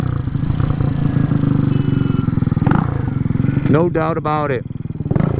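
A 1967 Harley-Davidson H Sprint 250 with a custom open exhaust runs loud and close with a rough, rapid popping idle, while someone talks over it.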